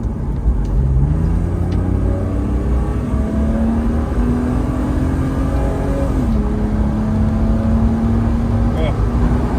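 A BMW E36 328i engine pulls hard under acceleration from inside the car, its steady loud drone rising in pitch, dipping briefly at a gear change, then climbing again throughout.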